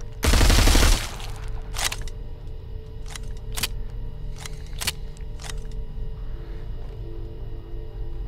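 Machine pistol fire in the VR zombie shooter Arizona Sunshine, starting with a loud, dense burst of rapid automatic shots that lasts about a second, followed by several single sharp cracks spaced over a steady background hum.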